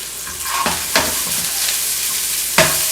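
Onions frying in oil in a pan for a Puerto Rican Miami cheesesteak give a steady close sizzle, broken by a few sharp scraping clacks of stirring.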